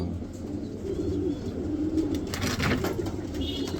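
Racing pigeons, including an imported checker from Bangladesh, coo softly in low, rolling murmurs, repeated several times close by over faint background noise.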